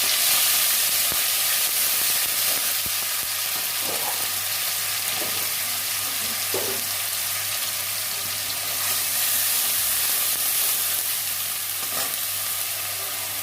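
Onion and ginger paste fries in mustard oil, giving a steady, close sizzle and hiss with occasional soft stirring scrapes over about thirteen seconds and no one speaking.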